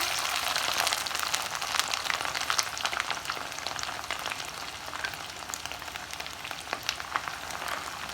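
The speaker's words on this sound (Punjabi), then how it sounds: "ਤੇਲ ਅਸੀਂ ਚੰਗੀ ਤਰ੍ਹਾਂ ਗਰਮ ਕਰ ਲਿਆ ਹੈ ਤੇ ਹੁਣ ਅਸੀਂ ਕਰੇਲੇ ਜਿਹੜੇ ਹਨ ਪਹਿਲਾਂ ਇਹਦੇ ਵਿੱਚ ਫਰਾਈ ਕਰਾਂਗੇ" Karela (bitter gourd) pieces fry in hot oil for a Punjabi karela aloo pyaz dish, giving a steady, dense sizzle with crackling pops that runs without pause and without any voices.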